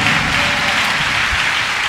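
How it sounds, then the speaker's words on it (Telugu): A church congregation at a Sunday service claps together in steady, dense applause. The sound is a continuous wash of many hands close around the listener for the full two seconds, with no talking. "చప్పట్లు కొడుతూ దేవుని నామమున స్తుతిద్దాం గట్టిగా."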